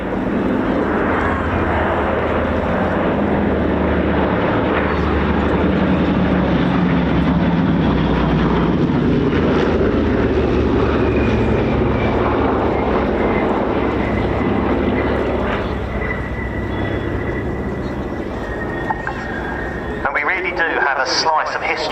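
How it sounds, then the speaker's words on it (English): Warbird engines of a Republic P-47D Thunderbolt and an Australian-built North American P-51D Mustang forming up on a B-17 at an air show, a loud sustained propeller drone that gradually fades, with an announcer talking over it. "The Republic P-47D Thunderbolt and an Australian-built version of the North American P-51D Mustang forming up on the B-17."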